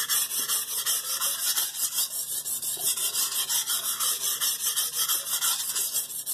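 A knife blade rubs back and forth on a low grit sharpening stone in quick, steady strokes, a close, continuous gritty rasp with a faint pulsing rhythm and no talk.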